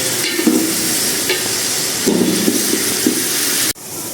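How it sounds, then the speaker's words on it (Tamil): Ingredients for mutton biryani frying in a pan until golden brown, a steady loud sizzle with occasional stirring scrapes and a sharp knock near the end. "நல்லா கோல்டன் ப்ரௌன் வர வரையும் வதக்கிக்கலாம்."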